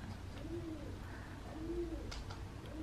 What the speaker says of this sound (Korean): 아, 이 비둘기.